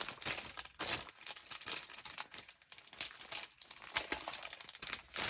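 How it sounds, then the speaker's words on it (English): Reindeer moss being peeled apart gives dry, crackly crinkling and tearing, close and continuous with small irregular bursts, alone without talk. "Let's have a little reindeer moss. I can peel off a piece of this."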